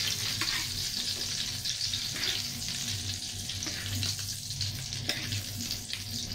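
An eggplant omelette frying in oil in a pan, a continuous crackling sizzle with soft spitting pops at moderate closeness and no talking.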